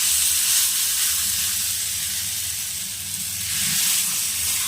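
Jackfruit seed batter spread on an oiled tawa gives a steady, close, loud sizzle with a bright hiss that barely changes over several seconds, and no talk.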